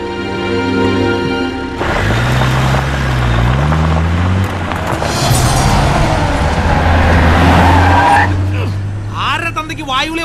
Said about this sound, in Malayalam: നീ വണ്ടി എടുക്കടാ